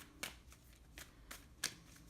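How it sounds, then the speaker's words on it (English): Tarot cards are shuffled quickly and quietly, with four or five crisp riffles spread across a couple of seconds in a calm room. "just do a quick shuffle here on Aquarius for the new moon month"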